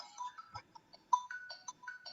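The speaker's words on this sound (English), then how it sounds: "Oops, that's my phone." A mobile phone rings with an incoming call, its melodic ringtone playing a quick pattern of bright electronic notes, close and clear in an otherwise quiet room, with nobody talking.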